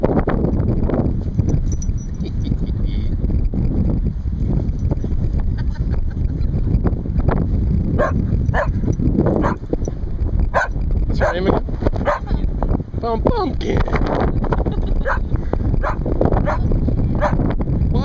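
Repeated dog barks and yips burst out over a constant background rumble, with a person talking in between.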